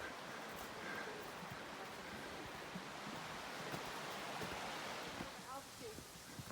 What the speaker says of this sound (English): Here's a little waterfall coming off the cliff. Just a little trickle.